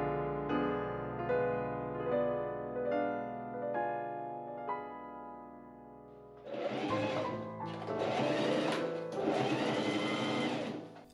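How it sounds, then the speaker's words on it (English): A sewing machine runs in several bursts as it stitches the shoulder seams of a corset hoodie lining, close and fairly loud. Soft music plays first, then the motor whirs in stop-start runs. "I pin and machine sew up the shoulder seams of the lining."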